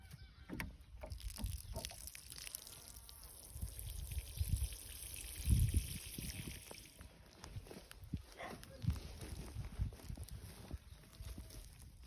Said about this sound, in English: then I'll put some water in first